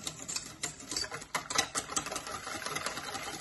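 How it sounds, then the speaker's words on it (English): Cinnamon mixture whisked in a bowl, the whisk scraping down the sides with quick, busy clicks and rasps in a steady close-up patter, no talking. "Combine, scraping down the sides of your bowl."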